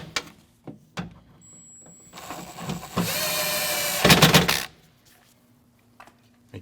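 A power tool tightens the bolts on a rear window regulator in a 2012–2016 Honda CR-V, with a few clicks and knocks leading into a sustained whirring run of about two seconds that ends abruptly.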